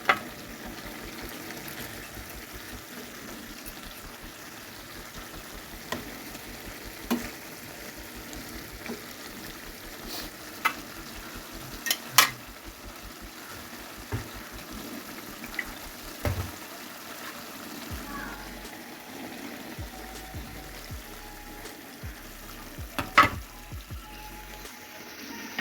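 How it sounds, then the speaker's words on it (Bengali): Fried fish is added to potatoes and flat beans sautéing in a pan, giving a soft, steady sizzle and hiss with occasional light stirring scrapes and clicks. "আলু আর শিমকে কষিয়ে নিয়েছি, ভেজে রাখা মাছগুলো দিয়ে দিলাম।"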